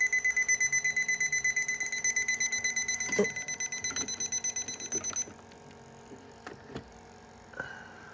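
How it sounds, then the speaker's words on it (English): An electronic alarm beeps rapidly in a steady pulsing pattern for several seconds, then stops, leaving a few scattered clicks and knocks. "The alarm is going off."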